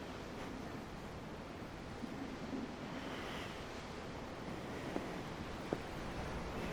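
Ocean waves in the video game Tales of Arise, heard from a ship's deck: a continuous wash of surf with wind noise, steady and fairly loud, with a couple of faint clicks and no voices.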